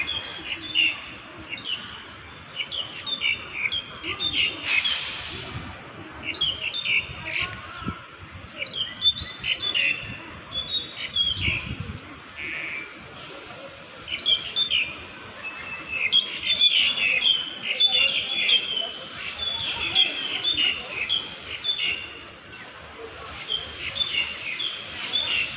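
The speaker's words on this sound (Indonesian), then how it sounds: "Banyaknya suara burung ya," Many birds chirping and squawking all around in Hoi Sham Park, a busy overlapping chorus of calls near and far over a soft background rumble.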